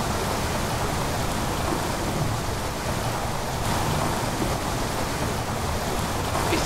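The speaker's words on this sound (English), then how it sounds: "All the sewer water goes down into this." Sewer water flows steadily through a drain in Amnesia: The Dark Descent, a constant, dense rushing wash that holds at an even level throughout with no voices over it.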